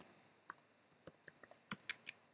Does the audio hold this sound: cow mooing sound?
no